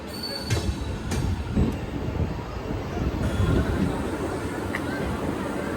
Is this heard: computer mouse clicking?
no